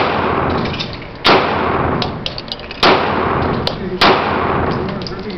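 A Glock 19 Gen 6 pistol fires three sharp, loud shots from magazine number 4, spaced more than a second apart, each with a short ringing echo, over steady outdoor background noise.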